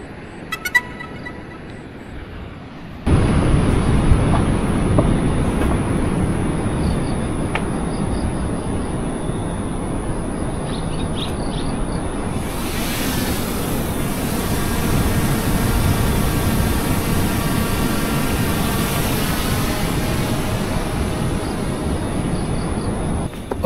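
A small camera drone whirs up after a quiet start, its high steady rotor whine holding on and swelling louder midway as it climbs and flies, over a broad outdoor wind rush.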